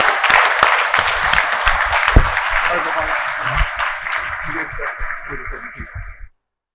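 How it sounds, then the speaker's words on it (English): Loud applause from an audience at a mortgage business event honours T.O. and Pudge, a dense steady patter of many hands filling the room and slowly thinning toward the end, with some voices mixed in. "another applause for T.O. and Pudge"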